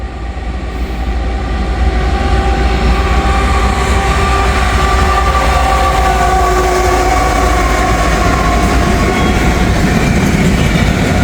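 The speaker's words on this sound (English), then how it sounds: "a CSX train." A CSX freight train led by heritage unit M561 rolls past close by, a loud, continuous rumble of wheels and cars with steady clatter and a sustained engine drone.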